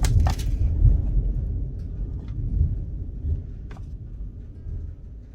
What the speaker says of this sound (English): that's some pretty serious thunder.